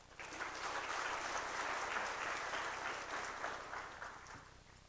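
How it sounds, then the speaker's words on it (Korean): A church congregation at a Wednesday service claps warmly for a certificate presentation, a soft, even burst of applause that swells and then fades. "박수해 주시기 바랍니다."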